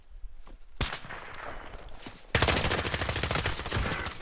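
Automatic gunfire rattles in Call of Duty Warzone, starting with scattered shots and a sharp crack, then a loud sustained burst of rapid fire that runs through to the end.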